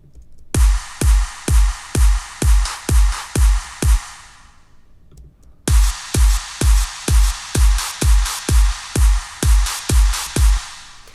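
Percussion in an EDM drop pounds out a steady four-on-the-floor pattern of punchy kicks with bright noisy hits, loud and upfront, pausing briefly midway before resuming.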